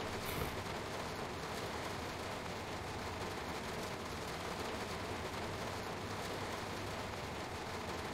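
Steady rain in the Train Sim World 2 video game, on the London commuter Brighton Main Line, hisses continuously, a dense, even wash of sound with no voices.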